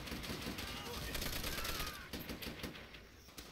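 Rapid gunfire from the World War II shooter Call of Duty: World at War crackles in a steady burst of close shots, bright and dense throughout, with a voice talking over the shooting.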